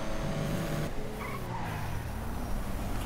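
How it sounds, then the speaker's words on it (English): Inside the GTA 5 Online video game, a car skids across the road with a loud, sustained tire squeal over a heavy engine roar, then a duller scrape and thud as the crash sound shifts, with no talking. "I'm crashing my car, buddy."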